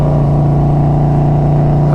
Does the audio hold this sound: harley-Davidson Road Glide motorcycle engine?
yes